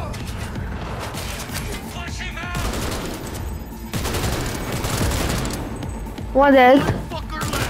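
Gunfire in the video game Cyberpunk 2077, rapid bursts of shots under someone talking, with a brief loud tonal effect near the end.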